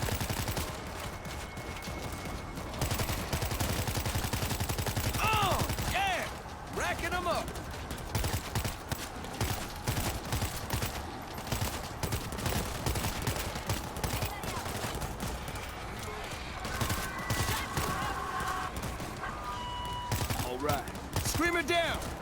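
Gunfire from the zombie shooter World War Z rattles almost nonstop in rapid automatic bursts, loud and close, while players shout excitedly over the shooting throughout.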